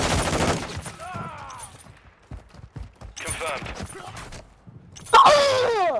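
Bursts of video-game gunfire from Call of Duty: Modern Warfare II crackle among in-game voices and effects, with quieter gaps and a louder burst near the end.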